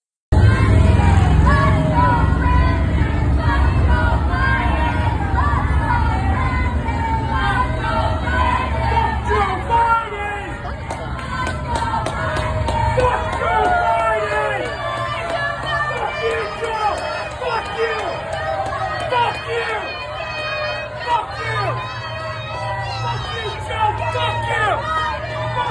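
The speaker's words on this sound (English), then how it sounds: "And let's take a look at his crowd." Large crowd at a campaign event in Harlem, a dense continuous roar of cheering and overlapping voices, loud and close, with a heavy low rumble easing slightly after the first ten seconds.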